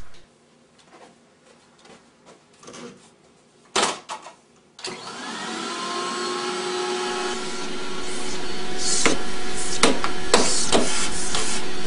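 A few knocks and clatters, then a vacuum cleaner starts up and runs with a loud, steady whine that builds and holds to the end.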